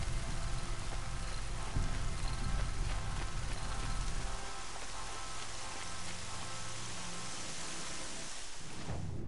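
Steady rain in the video game Horizon Zero Dawn, a dense hiss of rainfall on surfaces, fairly loud and unbroken, softening a little midway and ending in a brief rustle.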